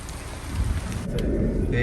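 Rain falls steadily at a forest resort in Wayanad overlooking the Karapuzha dam, a close, even hiss of drops that grows slightly heavier toward the end.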